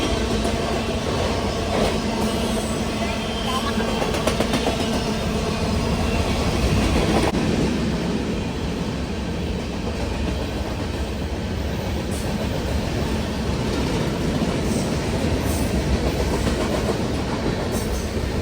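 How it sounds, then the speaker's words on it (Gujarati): A long goods train rolls past steadily and loud for the full length, its wheels clattering in a continuous rumbling clickety-clack with no pause, near and alone without voices, at a railway crossing in Oregon. "ખરેખર બહુ લાંબી ટ્રેન હતી, ગુડ્સ ટ્રેન હતી"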